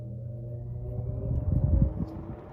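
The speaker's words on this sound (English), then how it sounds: "Weird startup sound." A 1975 TG&Y by Champion electric fan switched on at its high setting, its low motor hum and rumble swelling and fluttering unevenly as the blades spin up, with no talking.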